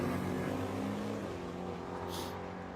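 Street race cars from a nitrous-fed racing event roar down the strip, engine drone steady and loud throughout, with no talk over it.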